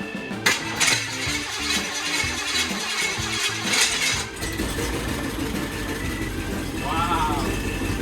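CJ5 Jeep engine with new battery and cables cranking briefly and quickly, then catching and settling into a rough, steady idle up close, a voice speaking over it near the end.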